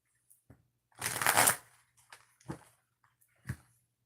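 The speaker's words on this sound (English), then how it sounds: "One more shuffle." Close, quiet handling of a tarot deck: one brisk riffle shuffle followed by a few light taps and knocks as the cards settle.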